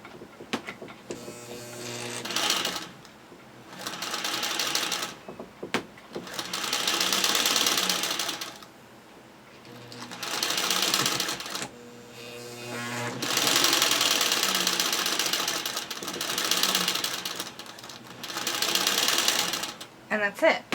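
A Singer 301 sewing machine stitching a seam, running in several steady buzzing bursts of a few seconds each, with pauses between them and occasional speech.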